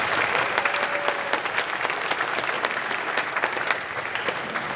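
An elementary school spring concert audience claps for the student band, steady crowd applause with distinct sharp claps popping through, continuous for several seconds.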